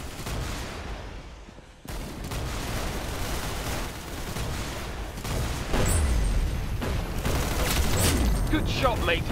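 Gunfire in a video game: dense, continuous crackling bursts of shots at steady loudness through the whole stretch, a few low booming thuds toward the end.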